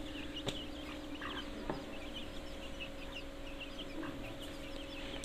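Young chicks feeding on termite nests in the countryside, giving soft, scattered clucks and peeps over a faint, steady background hum.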